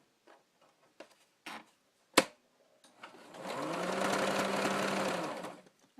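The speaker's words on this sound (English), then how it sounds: "I'm just going to do a straight stitch." Sewing machine running a straight stitch along a pillowcase hem, a few handling clicks and knocks, then a steady close whirring run of about three seconds before stopping.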